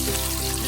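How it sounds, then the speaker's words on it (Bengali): Eggs frying lightly in a pan for Bengali dim bhuna, a steady close sizzle with a soft crackling hiss throughout, no voices over it. "আমি এখন এটাকে ভেজে নিব,"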